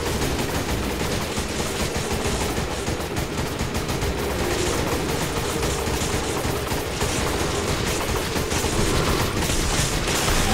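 Dense, continuous gunfire from weapons in Resident Evil 5, with rapid overlapping shots and machine-gun bursts forming a loud, unbroken barrage throughout.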